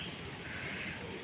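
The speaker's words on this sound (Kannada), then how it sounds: "ಹಕ್ಕಿಗಳ ಚಿಲಿಪಿಲಿ ಸೌಂಡ್ ನೋಡ್ರಿ ದೇವಸ್ಥಾನ ಒಳಗೆ ಎಷ್ಟು ಚಂದ ಅನ್ಸಾತೈತಿ" Birds call inside a hilltop Anjaneya temple in Goa, soft cooing and chirping over a hushed, steady ambience, faint and continuous with no talk.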